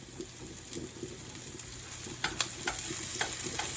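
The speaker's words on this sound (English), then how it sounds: "it's a hot pan. We're going to slobber butter on this thing." Butter sizzling in a hot pan set up for onions and peppers, a soft, faint hiss close by that gains a few sharper crackles and pops partway through.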